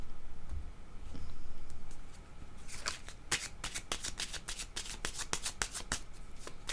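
Tarot cards are shuffled close by in a rapid run of crisp riffling clicks, after a brief softer rustle of handling.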